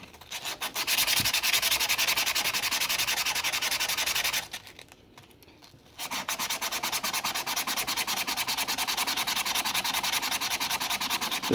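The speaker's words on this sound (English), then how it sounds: "Just an old hook and loop for the sander. Just give it a little bit of a buff real quick." A hook-and-loop sander with a 120-grit pad buffs across weld metal in a loud, steady rasping drone, pausing for about a second and a half before resuming just as close and continuous, with no voices.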